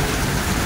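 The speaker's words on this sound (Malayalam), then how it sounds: "പുറത്ത് നല്ല മഴയാണ് കേട്ടോ, കണ്ടില്ല നല്ല സൂപ്പർ മഴ, അടിപൊളി മഴ പെയ്തോണ്ടിരിക്കുകയാണ്" Heavy rain pours steadily outdoors, a dense, even hiss that stays loud and unbroken throughout with no voices.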